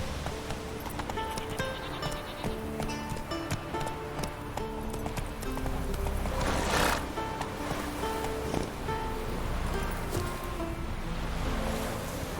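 Galloping hooves of Geralt's horse Roach in The Witcher 3: Wild Hunt, a continuous rapid clip-clop rhythm over game music and ambient wind, steady and fairly loud throughout.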